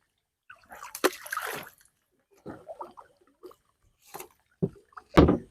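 A boat engine is lowered into the water at a riverside landing by a house, giving scattered close splashes, sloshes and knocks separated by quiet gaps.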